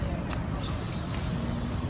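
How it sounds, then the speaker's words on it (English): Mosquito repellent spray hisses over a person's clothes outdoors at a field, one short burst near the start with a steady background wash. "we wanted to ask you if you'd like to spray yourself with some mosquito spray"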